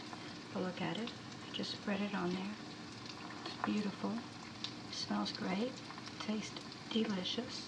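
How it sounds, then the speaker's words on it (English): Eggs fry in a pan, giving a steady sizzle and crackle that runs underneath a person talking throughout. "I'm frying some eggs, and that's what's going to be for breakfast."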